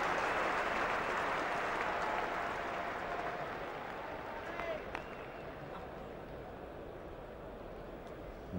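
A Lord's Test match crowd in England claps for a stroke with a broad wash of applause that fades gradually, while a commentator talks over it.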